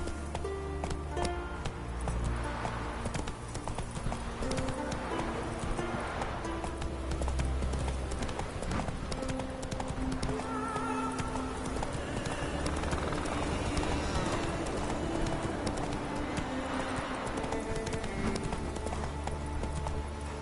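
The horse Roach gallops in a video game, its hooves drumming in rapid clip-clop under a dense, continuous bed of game music and ambience, with no speech.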